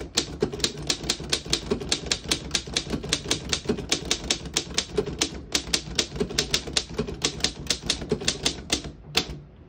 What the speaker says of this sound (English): I'm going to type a sentence.